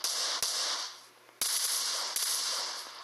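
Gunfire in the mobile battle royale game PUBG Mobile: three sharp, loud shots spaced about a second apart over a steady hiss of game ambience.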